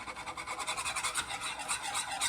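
A wire whip whisks a roux slurry of melted butter, water and oat flour in a gravy pan at a campground kitchen. It makes a quick, steady, rhythmic scratchy swishing, faint and with no one speaking.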